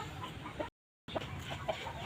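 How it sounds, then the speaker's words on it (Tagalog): Chickens cluck softly and intermittently up close while foraging, with a brief silent gap in the middle and low background noise throughout. "yung aking mga manok ayun no naghanap ng makakain"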